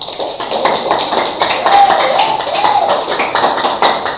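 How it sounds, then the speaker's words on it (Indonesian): Students in a junior high school religious studies class clap together for everyone, a steady patter of hands at moderate distance filling the room. "Tepuk tangan untuk kita semua"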